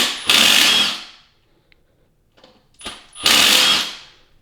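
An impact wrench rattles out transmission bell housing bolts in two loud, close bursts of about a second each, with quiet tool handling and clicks in the gap between them.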